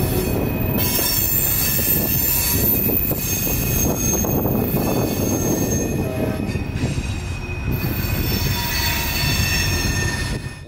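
A freight train of empty Tropicana juice cars rumbles loudly through a large grade crossing in Bradenton, Florida, its wheels squealing in sustained high tones over a steady heavy roll.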